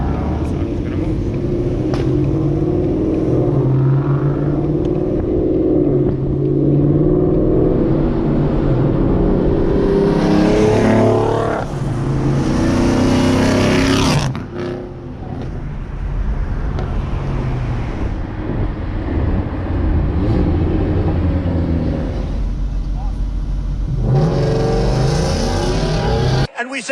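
Cars pull away from a cars and coffee meet, loud engine rumble and revving rising and passing close by, with wind buffeting the microphone and people talking throughout.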